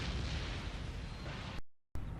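An artillery barrage in Empire Total War rumbles as a dense, continuous roar of cannon fire and explosions, then cuts out abruptly to silence before resuming.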